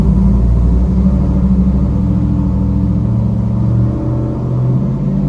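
A Jeep SRT8 fitted with a Stage 2 HHP Racing cam idles while warming up, a loud, steady low rumble with a slightly lumpy, choppy pulse running throughout.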